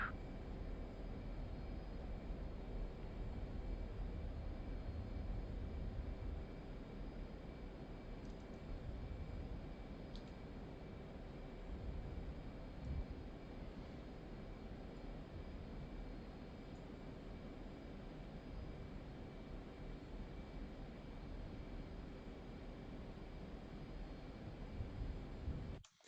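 An F/A-18 jet engine roars continuously during takeoff in the DCS flight simulator game, a loud and steady broadband rush that holds for the whole stretch before cutting off abruptly at the end.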